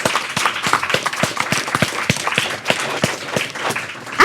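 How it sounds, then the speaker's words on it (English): Steady applause from a crowd, dense clapping sustained throughout at moderate loudness. "Let's give him a big round of applause."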